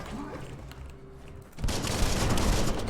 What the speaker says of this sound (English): These barrels explode